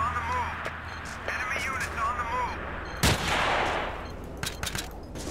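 Battlefield 2 multiplayer gunfire on the Daqing Oilfields map: one sharp, loud shot with a burst of noise, surrounded by other distant shots and battle ambience, with players talking over the game throughout.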